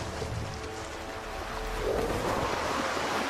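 Ocean surf rushes toward a beach, a broad washing roar that swells louder midway, mixed with wind buffeting, with no voices.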